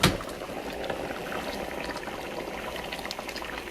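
Fasoli white bean soup boiling in a pot on the stove, a steady close bubbling and simmering that carries on unbroken with no talking.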